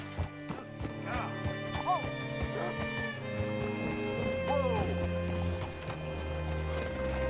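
Horse hooves clip-clop at a walking pace with an occasional whinny, set against a steady musical drone and ambient sounds in the video game Red Dead Redemption 2.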